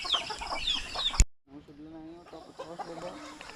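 Farmyard chickens and turkeys clucking and calling in short, pitched bursts after a brief cut, moderately close, with rustling and other bird noise around them.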